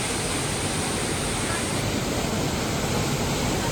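Waterfall in Rishikesh, a steady, dense rush of falling water filling the whole clip at even loudness, with no breaks or voices.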